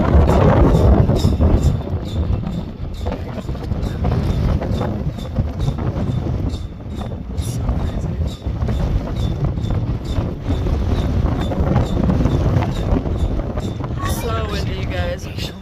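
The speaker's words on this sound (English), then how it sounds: "So windy, you guys." Strong gusting wind buffets the microphone on a windy Oklahoma night, a loud continuous roar with rising and falling surges, while people talk over it.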